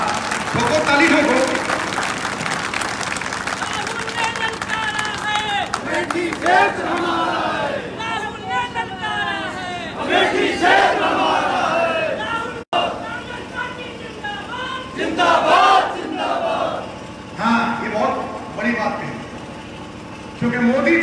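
A large outdoor political rally crowd at a politician's speech claps and cheers in sustained waves, roaring hubbub filling the whole stretch with shouts rising above the applause.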